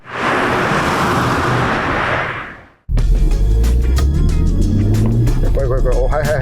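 A seventh-generation Nissan Fairlady Z being driven, a steady rushing roar first that cuts out briefly, then a louder, closer engine drone with rising revs as people talk over it inside the car.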